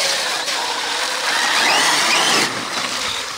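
A Traxxas XMAXX RC truck on paddle tires drives through swampy mud, its electric motor giving a steady high whine with a brief surge near the middle, heard alone without talking.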